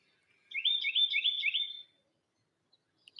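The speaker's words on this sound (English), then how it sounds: "that bird is just walking around, tweeting, not flying around" A bird on the ground gives a quick, rapid series of high tweets lasting just over a second, fairly clear against near silence, with a faint chirp afterward.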